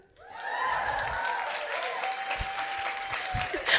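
A live theatre audience at the Chinateatern in Stockholm breaks into applause, with dense clapping swelling quickly and holding steady while a few cheers and whoops rise over it.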